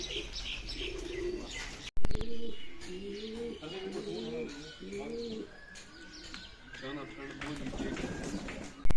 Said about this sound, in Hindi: ये देखिए दोस्तों अभी कबूतर बाहर ही हैं।